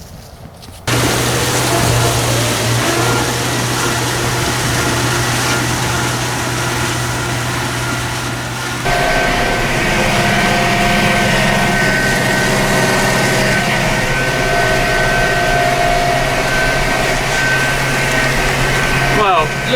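A tractor engine drones steadily and loud while mowing grass, with a low rumble and a shift in pitch partway through as it revs up.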